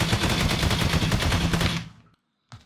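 An AI enemy character fires an automatic gun in an Unreal Engine 5 third-person shooter, a loud rapid burst of shots lasting almost two seconds, then silence and one last short shot.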